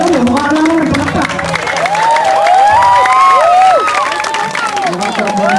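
A large crowd at a basketball awarding event cheers and claps loudly and continuously, with excited shouts and someone speaking over the din.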